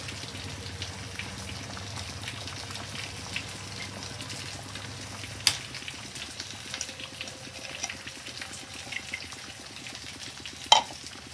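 Ground masala powder is stirred into Andhra fish curry in the pan, giving a soft, continuous low sizzle and bubbling with faint scraping and a few sharp clinks of a utensil.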